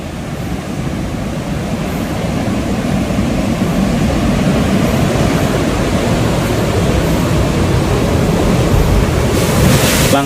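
Ocean surf rolls onto a south coast beach as a continuous loud roar of breaking waves, thick with wind rumble against the microphone, with no talking.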